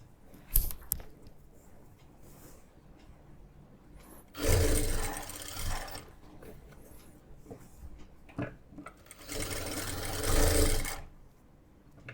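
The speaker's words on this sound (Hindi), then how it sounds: "खींचना नहीं है आपने कपड़े को, नॉर्मल से सिलाई लगा लेनी है बस।" A sewing machine stitches fabric in two steady whirring runs of a couple of seconds each, close and moderately loud, separated by quieter handling noises and small clicks.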